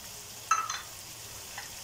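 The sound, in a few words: stirring achari bhindi masala frying in pan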